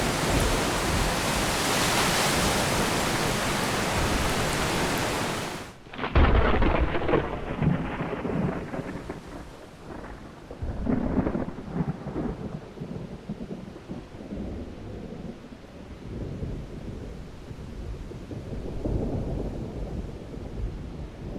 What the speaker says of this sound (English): Wind intensifies as the storm approaches, thunder rolls in the distance and grows louder as it gets closer.